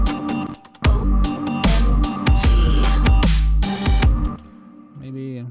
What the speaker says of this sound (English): let's try that without any plugins.